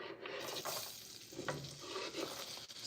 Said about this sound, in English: I have browned some butter because I want to sear these.